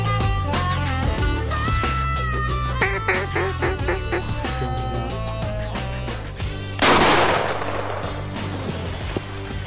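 Shotgun blast during a duck hunt in Oklahoma, one sharp loud report near the end after several seconds of quacking duck calls and birds overhead, close and startling.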